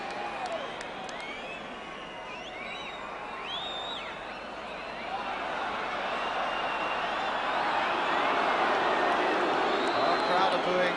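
A 1975–76 football crowd at a Spurs versus Wolves match boos one of its own players, producing a broad, sustained jeering roar that swells louder toward the end, with a commentator talking over it.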